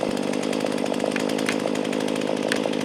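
An $89 gas chainsaw idling nearby, a loud steady two-stroke putter with a fast rhythmic pulse and no talk over it.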